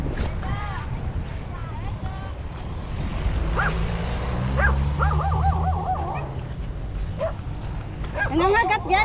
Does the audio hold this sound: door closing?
no